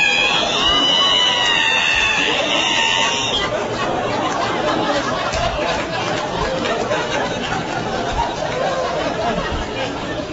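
A voice imitates the long high squeal of a squeaking ironing board being opened, drawn out for a few seconds above a chattering, laughing studio crowd that continues afterwards.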